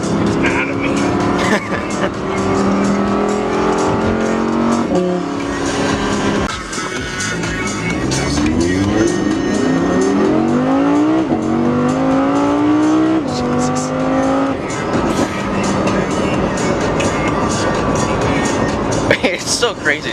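An Audi R8 engine revs hard and accelerates through the gears on a ride along, rising and falling in pitch, loud and close from inside the car, with passengers talking and exclaiming over it.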